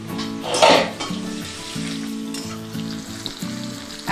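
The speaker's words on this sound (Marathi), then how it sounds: "कांदा मिरची लसूण जिरं चांगलं फ्राय झाला आहे" Onion, green chili, garlic and cumin fry in a pan with a steady, fairly loud sizzle. A brief burst of stirring clatter comes near the start, and low tonal sounds run underneath.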